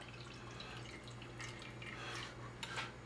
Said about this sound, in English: I'm going to go ahead and pour this juice off